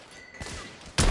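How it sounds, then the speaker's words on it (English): A grenade blows up in the video game The Order: 1886, a short, loud, booming burst that lands abruptly at the end after a brief stretch of quieter rumbling game sound. "Bloody grenade!"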